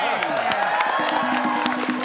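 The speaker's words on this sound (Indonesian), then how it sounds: "Beri tepuk tangan buat kami" Studio audience applause and cheering on an Indonesian TV quiz show, a steady crowd roar with a few whoops, heard under overlapping voices and a musical tone.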